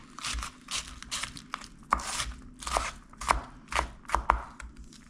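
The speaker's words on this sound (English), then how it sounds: "Chop this up in little itty bitty pieces if you can, small as you can get them without mincing it." Knife chopping herbs and vegetables for chimichurri into small chunks on a cutting board, a steady run of quick, close, crisp cuts with short pauses between bursts.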